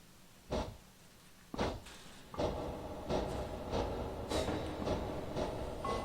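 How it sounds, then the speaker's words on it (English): A small blue 0-4-0 saddle tank steam engine runs on the Western Lines of Scotland in Train Simulator 2015, with a few sharp chuffs followed by a steady mechanical rumble broken by repeated exhaust bursts. "It's just a little blue steam engine."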